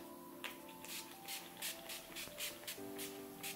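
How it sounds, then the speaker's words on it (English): A setting spray bottle spritzes repeatedly in short, evenly spaced hissing bursts onto a face, close by, with faint background hum between pumps. "I will be spritzing a bit of the NYX Dewy setting spray on my face."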